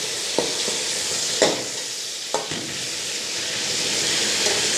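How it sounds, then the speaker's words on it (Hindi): Chicken pieces sizzle steadily in a hot pan, a continuous bright frying hiss broken by a few sharp clinks and scrapes of stirring, close and fairly loud with no voices. "अब मैं इसमें चिकन ऐड करता हूँ। इसको हम फ्राई करते हैं।"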